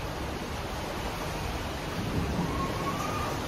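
Heavy rain pours down in a steady, loud, wide roar, with a low rumble of thunder swelling briefly near the end.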